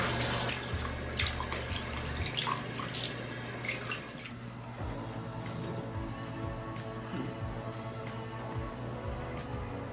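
Water runs steadily from a bathroom tap while a face is being washed, a soft continuous flow with faint splashes and occasional small knocks, no speech.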